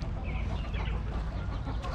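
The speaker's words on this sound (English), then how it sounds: "He got the chickens out here." Chickens, including a Malaysian Serama, cluck outdoors in a dense, continuous chorus of short calls over a loud rumbling background, fairly close and steady throughout.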